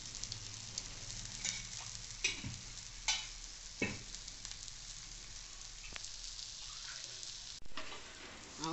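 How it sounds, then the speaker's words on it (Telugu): Dosa sizzles quietly in oil on a hot pan, a soft continuous frying hiss with occasional light scraping and clinks from a spatula, no voices. "ఆయిల్ వేసుకొని కాల్చుకోవాలి. రెండు వైపులా కాలవాలి ఈ దోశకి."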